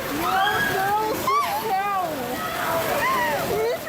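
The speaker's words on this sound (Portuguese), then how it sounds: "É possível ver vários veículos arrastados pela correnteza." Floodwater rushes through city streets during heavy rain, carrying vehicles along in a loud, continuous splashing torrent heard under a reporter's voice.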